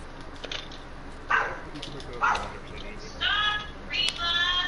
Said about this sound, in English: That dog's a lot louder than you.